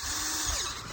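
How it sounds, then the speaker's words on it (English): A power drill bores a 7/16 inch hole into a maple tree, a steady close whirring grind that runs the whole moment without a break. "We're gonna go about 2 inches deep into the tree, and then we're gonna tap these in and hang our bucket."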